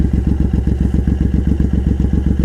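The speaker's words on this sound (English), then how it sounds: "The exhaust sounds pretty good if you ask me." A Suzuki M109R Boulevard cruiser with Cobra side-swept exhaust idles nearby: a loud, steady, deep rapid thumping from the engine and exhaust, with nothing else heard.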